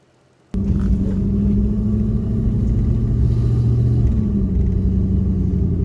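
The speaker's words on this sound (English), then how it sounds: "We'll take it out on a road test now and see what it's like." Jeep with a 4.7 engine on a road test with a shorter serpentine belt bypassing the AC pump: the engine starts abruptly, then a steady, loud in-cabin rumble and drone holds with a slight shift in pitch, no talking.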